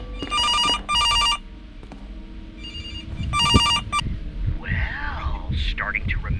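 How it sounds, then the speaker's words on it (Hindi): A telephone rings in a horror video game set in a police station, with sharp repeated bursts of ringing at the start and again partway through, then gives way to a strange warbling electronic tone and game sounds. "एक फोन भी इधर बज रहा है।"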